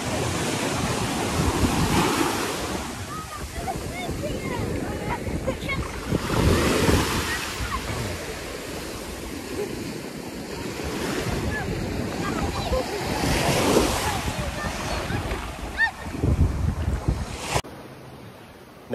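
Waves break and wash up a beach in the Algarve, Portugal, in repeated rolling surges that swell and fade every few seconds, close and loud, with heavy wind buffeting the microphone throughout.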